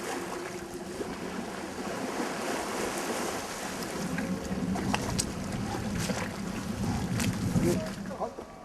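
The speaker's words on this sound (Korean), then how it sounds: "선착장에 배가 닫자 마중 나온 주민들이 그들을 반긴다" A boat pulls in at the dock on Jabongdo, a small island: a steady engine drone with water washing and wind, and voices at times over it.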